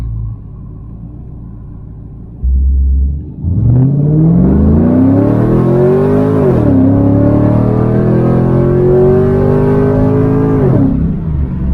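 A 2002 Chevrolet Camaro SS V8 cranks and fires, rising into a loud rev before settling into a deep, steady rumbling idle close by.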